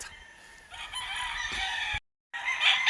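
A pure Macklin Hatch gamefowl rooster at a game farm crows in one drawn-out, loud call, broken by a brief gap before the crow resumes, with no talk over it.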